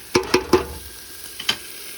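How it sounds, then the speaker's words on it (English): Canned tomatoes tipped into a hot pot of sautéed ingredients for scalcione-style spaghetti sauce, three sharp splashy plops in quick succession followed by a lighter fourth, close and fairly loud, with faint sizzling between. "And now we're going to put the tomatoes in."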